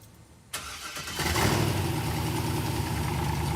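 A 1966 Corvette that sat unrun for thirty years cranks and fires up while a new transmission is tested, the engine catching abruptly and then settling into a loud, steady, slightly uneven idle close by.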